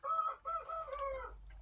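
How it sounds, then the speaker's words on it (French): A rooster crows once, close and clear, in a short wavering cock-a-doodle-doo call heard alone. "c'est un coq"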